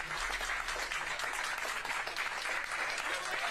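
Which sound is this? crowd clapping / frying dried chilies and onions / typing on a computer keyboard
crowd clapping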